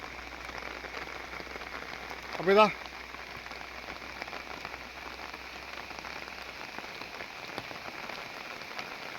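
Steady, soft monsoon rain patters on surfaces throughout, with a brief voice speaking partway through.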